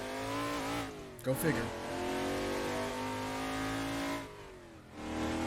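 A loud manual car with only four gears from a video game mod, engine droning and revving on the Shutoko Expressway, a steady harmonic roar broken by a quick gear change, with someone talking over it.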